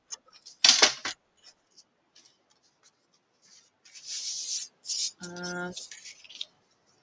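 Paper is trimmed for a card border with a few close, crisp snips and rustles separated by quiet gaps, and a brief spoken word with a short tonal hum near the end.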